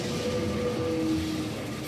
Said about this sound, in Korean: 리스본의 유명 관광지를 다니는 트램으로 관광객들에게 큰 인기다.